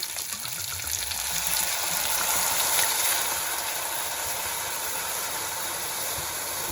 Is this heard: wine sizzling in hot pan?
yes